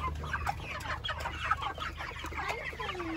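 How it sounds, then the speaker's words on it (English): Several chickens eating grit cluck and murmur close by in a steady, busy stream of short calls, with a low hum underneath and no talking. "Here we have the chickens eating some grit."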